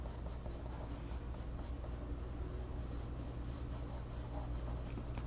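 Pencil sketching on paper while drawing a woman's hair, heard as a steady, close scratching and rubbing of graphite across the sheet throughout, with no talk.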